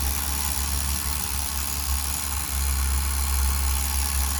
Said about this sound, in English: it won't idle any lower, so it's definitely not broken in yet